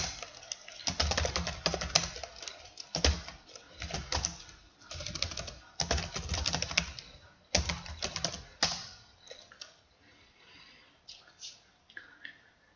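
Typing a name on a computer keyboard while formatting a research paper in Word, with bursts of rapid close key clicks broken by short pauses, then trailing off into a few scattered taps near the end.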